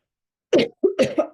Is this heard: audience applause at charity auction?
no